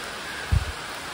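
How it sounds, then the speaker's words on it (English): Heavy rain pours down on a river during a kayak trip, a steady broadband hiss of falling water with a brief low thump partway through. "it is pouring rain"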